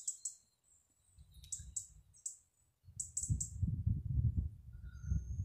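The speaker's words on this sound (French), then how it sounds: "Je sais pas si vous entendez les oiseaux." Small birds sing outdoors in quick, high chirps and short trills spread across the scene, mixed with low rustling and handling noise close by.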